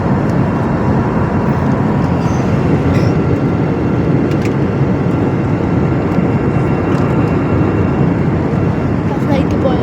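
An aeroplane passes at Dubai airport, heard as a loud, steady, broadband roar that holds for the whole stretch with no clear rise or fade, along with a faint background murmur.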